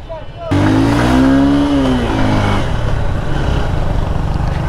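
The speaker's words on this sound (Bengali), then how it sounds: "চলার পরে এখন মনে হচ্ছে যে বাইকের টান আছে ভালো" Honda CB Hornet 160R motorcycle engine while riding on the road, a loud, steady drone with a rising then falling rev at the start that settles into a continuous hum with wind noise.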